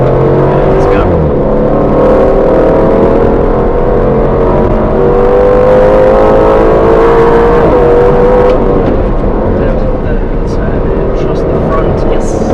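An Aston Martin Vantage F1 Edition driving hard around the Silverstone Stowe circuit, its engine droning loud and close from inside the car with gear-shift pitch changes throughout.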